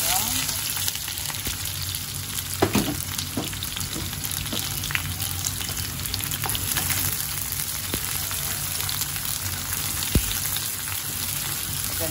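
Garlic sizzles in hot cooking oil for a bitter gourd stir-fry, giving a steady, dense frying hiss with a few brief stirring clicks and scrapes, heard up close and without talk.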